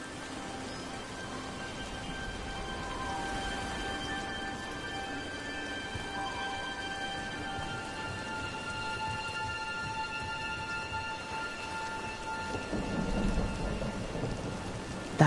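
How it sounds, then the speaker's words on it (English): Steady rain falls with low rolling thunder in the fantasy video game Dragon Age: The Veilguard, a continuous wash of drops under faint tonal music that swells into a louder rumble near the end. "Nobody else around here dumb enough to wait in the rain?"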